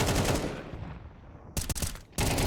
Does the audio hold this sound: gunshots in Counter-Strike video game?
yes